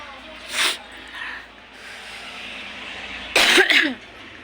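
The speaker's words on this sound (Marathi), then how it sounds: "खोकला काय थांबा नाही." A person gives a couple of short, harsh coughs, one early and a louder burst near the end, set against quiet room noise.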